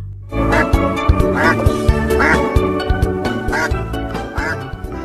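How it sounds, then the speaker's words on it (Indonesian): A mother duck quacks loudly and close in a series of about half a dozen rhythmic honking calls, with music-like tones and knocking sounds running underneath. "ini ada induk bebek angsa"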